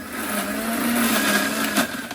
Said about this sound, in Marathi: आता टोमॅटो, कांदा, लसण हे पूर्ण आता बारीक करून घेऊ आपण.